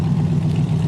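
1963 Buick Riviera exhaust note, a steady low, even idling rumble, moderately loud and close, with no revving.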